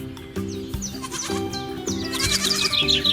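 A goat bleats repeatedly in quick, wavering calls, fairly close and clear, with short pauses between cries and no talking.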